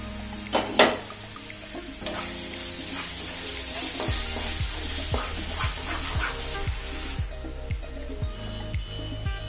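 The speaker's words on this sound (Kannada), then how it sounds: "ಈಗ ಇದು ಹಸಿ ವಾಸನೆ ಹೋಗುವವರೆಗೆ ಹುರಿಬೇಕಿದನ್ನು" Chana masala fries and sizzles in a pan with a steady hiss, while a spoon scrapes and stirs in a run of regular strokes over several seconds. A couple of sharp clanks come near the start.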